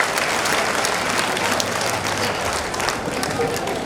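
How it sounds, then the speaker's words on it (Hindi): A crowd at a comedy show in India applauds a young poet called to the stage, with dense, sustained clapping and some voices mixed in throughout. "उसको जरा एक बार अपनी तालियों की गर्मी से बताओ बच्चे को"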